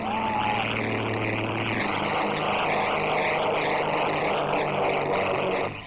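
Propeller aircraft from the 1934 London to Melbourne air race taking off, a steady, loud engine drone that holds throughout without speech.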